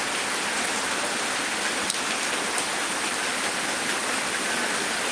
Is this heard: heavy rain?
yes